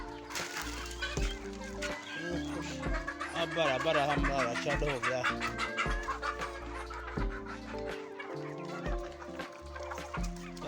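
Hens cluck and chatter in bursts close by, mixed with rhythmic background music and a person speaking briefly.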